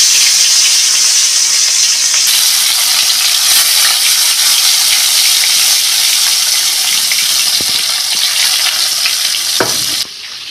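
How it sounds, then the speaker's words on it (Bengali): Fish fries in hot oil in a Bengali home kitchen, a loud, continuous sizzle and crackle close by, steady throughout with a brief drop near the end, no voices. "গরম হয়ে গেছে, এবার আমি মাছটা ভেজে নেব।"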